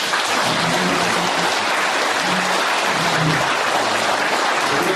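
A lecture-forum audience claps for two lecturers: dense, continuous applause that holds at a steady, loud level throughout without breaks.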